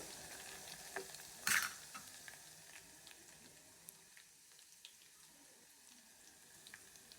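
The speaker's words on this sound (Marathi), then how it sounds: "मोहरी आणि कढीला चांगली फोडणी बसू देऊ आणि त्याच्यात कढीपत्ता टाकू, हिरवी मिरची 2, लसूण आणि चांगलं परतून घेऊ" Curry leaves, two green chillies and garlic frying in a mustard-seed tempering with a soft, steady sizzle, a sharp crackle and spatter near the start, and faint stirring scrapes throughout.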